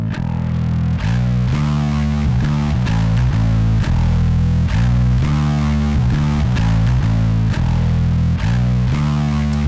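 A heavily distorted, buzzy bass guitar riff through an overdrive pedal with the gain turned up plays loud and continuous, with rhythmic chugging notes and thick gritty overdrive.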